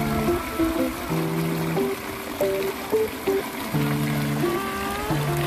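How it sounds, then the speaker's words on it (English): Water trickles and burbles continuously through a newly built pondless water feature in a garden, a steady close stream with little variation and no one speaking. "wrapping up a beautiful pondless water feature"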